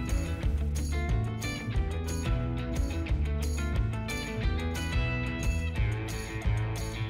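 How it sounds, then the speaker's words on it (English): Rhythmic ratchet clicking, close and steady, as Allen key bolts are tightened on a large rear wing spoiler mounted on a car. "And then you just nip the 4 Allen key bolts up."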